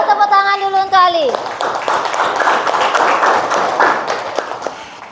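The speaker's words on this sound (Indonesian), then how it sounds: "Kita beri tepuk tangan dulu untuk Ali" Children clap together in a classroom for a student named Ali, a dense, loud patter of many small hands following a brief sung or spoken voice, with bits of chatter mixed into the clapping.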